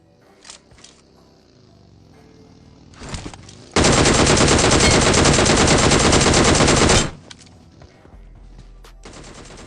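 A loud, sustained burst of automatic gunfire rattles for about three seconds during a squad fight in the mobile battle royale game BGMI, with scattered single shots and game effects before and after.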